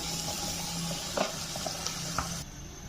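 Dahi pakoras, yogurt fritters, frying crisp in hot oil give off a steady, close sizzle with a few soft pops and stirring clinks, heard alone without talk.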